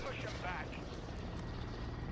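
A helicopter in Call of Duty MW2 multiplayer gameplay, its rotor drone a steady low rumble mixed with game noise beneath continuous talk.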